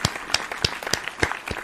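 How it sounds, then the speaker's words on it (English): Scattered hand claps from a small group, a sparse, uneven burst of applause lasting under two seconds with no talking over it. "Round of applause for Rafa."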